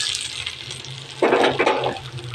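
Hot tempering of onion and spices hits a thin water chutney, giving a brief splash and sizzling crackle that flares up partway through. It is close and short, over quiet kitchen ambience with no talking.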